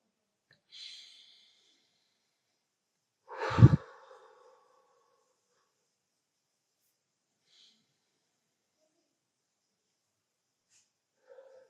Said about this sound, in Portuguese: Feche seus olhos e respira fundo comigo 3 vezes